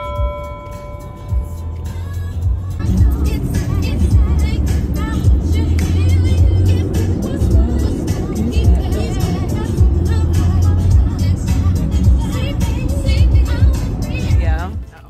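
A car being driven gives a steady low engine and road rumble throughout, with voices talking over it inside the cabin.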